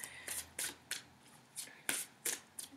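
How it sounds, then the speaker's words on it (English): Tarot cards are shuffled in quick, crisp bursts, eight or so riffling flutters separated by brief pauses, close and fairly quiet. "you can just close your eyes while I shuffle the deck"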